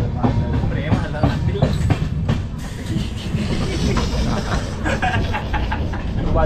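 A passenger train on a Mumbai to Ujjain journey rolls along with a steady low rumble and rhythmic clickety-clack of wheels, heard from inside the carriage beneath continuous chatter from people nearby.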